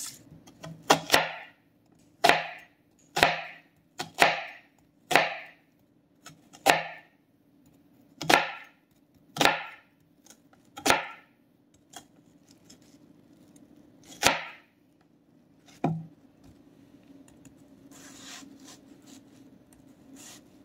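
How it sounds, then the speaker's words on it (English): A knife chops an onion on a cutting board in about a dozen crisp, evenly spaced strokes that thin out toward the end, close and clear with no talking. "when you chop your onion, try and get it as diced as you can"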